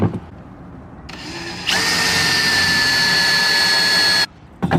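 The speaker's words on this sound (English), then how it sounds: "Drill a hole, make sure the hole's the size of the bolt." A power drill whines steadily at high pitch for a few seconds while drilling a bolt hole for a solar cooker, starting with a brief lower buzz, then cutting off abruptly.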